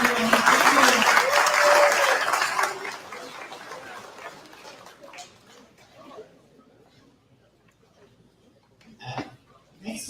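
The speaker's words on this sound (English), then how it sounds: "Another round of applause, everyone." Audience applause at a PNCR political event honoring Ganesh Mahipaul, loud and dense for the first few seconds, then fading into scattered faint sounds and murmurs.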